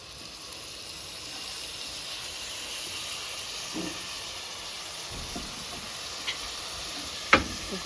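Tomato pieces cooking in a pot of mutton and drumstick curry, giving a steady soft hiss and sizzle with a few faint stirring knocks and one sharp clink near the end.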